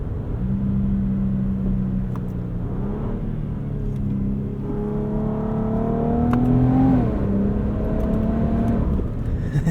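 Engine of a 2025 Infiniti QX80 Autograph in sport mode, a steady droning rumble from inside the cabin that rises in pitch as the SUV accelerates, then settles back, no talking.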